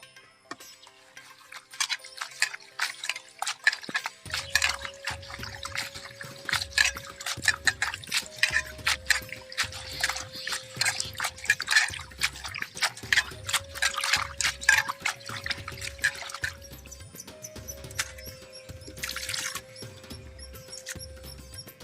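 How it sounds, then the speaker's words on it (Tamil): Spinach greens are rinsed in a basin of water: repeated soft splashes and sloshing swirls come in quick irregular bursts, close by, over a faint steady background tone. "இப்போ கீரை தண்ணியில் போட்டு அலசிக்கலாம்."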